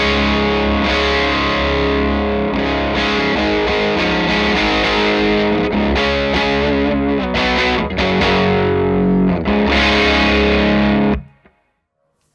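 An electric guitar plays through a Victory VC35 The Copper amp with the bass cut switched off, giving heavily distorted, low-end-rich chords and riffs that ring loud and steady before stopping abruptly into silence.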